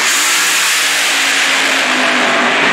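A nitro-fuel funny car engine revs hard and loud at close range, a dense roaring blast sustained throughout with no voices.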